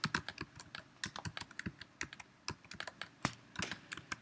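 Rapid keystrokes on a computer keyboard, with uneven bursts of clicks and taps close up and clear, entering uppercase letters, numbers and symbols, with no voices.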